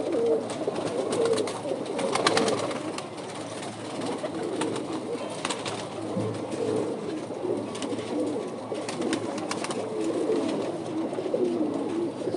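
Pigeons on a rooftop loft, cooing steadily throughout at moderate distance, layered soft calls running continuously with no talking.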